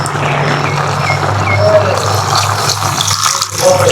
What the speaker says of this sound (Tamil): சரி மக்களே, தண்ணி ஊற்ற போகிறேன்.